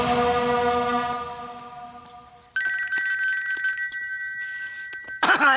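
A telephone rings with a long bright electronic trill, then changes to a different high repeating ring pattern, loud and close, with a brief burst of another sound at the very end and no talk.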